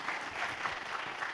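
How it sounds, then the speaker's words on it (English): An audience at an investment event claps in a continuous round of applause, many hands patting quickly and evenly at moderate loudness, with no talk on top. "A round of applause to, Satyam."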